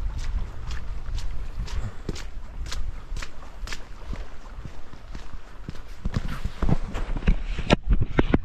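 Running footsteps on a lakeside path while hurrying to catch a ferry, quick regular thuds growing louder and denser toward the end.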